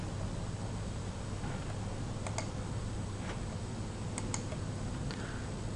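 Keystrokes on a Bloomberg terminal keyboard come as a few sparse, crisp clicks in small clusters over a steady hum of room noise, with no talking.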